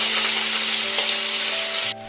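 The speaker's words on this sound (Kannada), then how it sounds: "ಸ್ವಲ್ಪ ಫ್ರೈ ಮಾಡ್ಕೊತೀನಿ" Onion, curry leaves and ginger garlic paste fry with pieces of fish in a pan, making a continuous close sizzle with light stirring, steady throughout before dropping away at the end.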